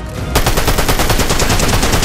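Rapid automatic gunfire in Fortnite Chapter 5 Season 2, a steady, dense stream of loud shots that starts abruptly after a brief quiet moment and continues without pause.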